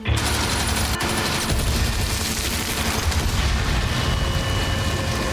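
Dense gunfire from a Peaky Blinders TV episode, a loud continuous barrage of shots and booms filling the whole stretch, heavy and close.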